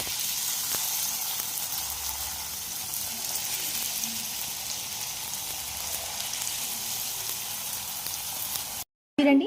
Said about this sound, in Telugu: ఇలా కట్ చేసుకున్న చిప్స్ని మనం డీప్ ఫ్రై ఆయిల్లో వేసుకొని ఫ్రై చేసుకోవాలండి